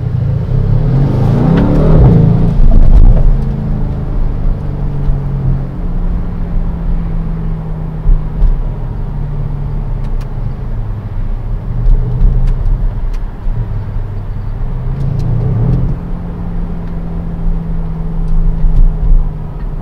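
A 2020 Mercedes-AMG C63 S Estate in sport mode accelerating, its engine loud and close with a deep rising roar, brief dips between gears, then a long steady pull and another surge near the end.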